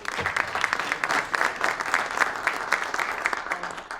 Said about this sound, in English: I want to have a big welcome and a round of applause for both of them